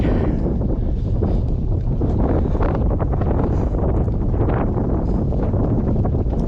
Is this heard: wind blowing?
yes